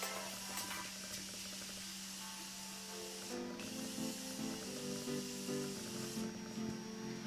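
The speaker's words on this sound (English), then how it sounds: "So I'll just spray this all over." A steady hissing spray of makeup setting spray runs continuously, close and fairly quiet, with faint background music underneath.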